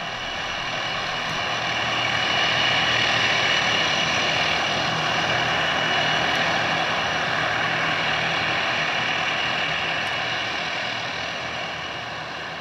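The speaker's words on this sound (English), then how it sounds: "The roar is of course the propellers" The loud, steady roar of a Tu-95 bomber's heavy propeller engines as it taxis and takes off swells up and holds for a long stretch, then begins to ease slightly at the end.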